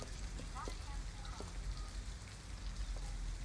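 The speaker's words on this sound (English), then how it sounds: "At least we'd be out of the rain." Steady rain pours down in a scene from the video game Detroit: Become Human, a dense, even hiss lasting throughout, with faint voice fragments briefly surfacing over it.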